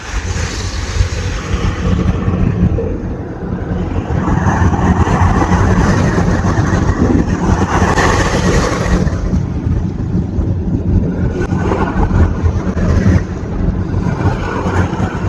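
A motorized sea outfall gushes water into the sea during a typhoon, a loud, continuous roaring rush mixed with strong wind buffeting the microphone and engine-like rumble, with no voices.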